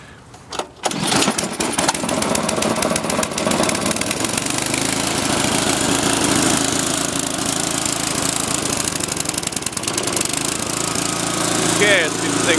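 A Sears Craftsman snowblower engine is started, then runs with a loud, continuous rough chugging and rattling roar that holds steady at close range.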